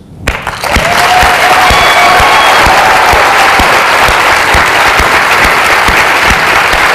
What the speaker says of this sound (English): let's hear how it will sound when we applaud the ribbon achievers